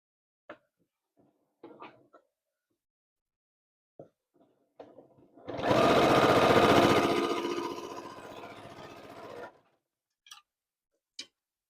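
A sewing machine stitching a kawandi quilt runs in one continuous whirring burst of about four seconds, framed by sparse, quiet clicks and handling taps before and after.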